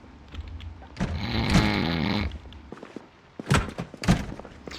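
A man snoring nearby: one long, rough, rattling snore lasting over a second, followed by heavy thumps and shuffling movement sounds, with no talking.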